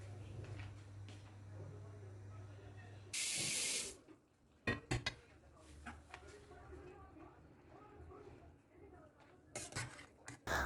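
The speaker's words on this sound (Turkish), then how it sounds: "Başka bir kabın içerisine de soğuk su alıyorum." Cold tap water runs into a bowl in a home kitchen, a short gushing burst from the faucet followed by splashes and clatter, with a person talking nearby.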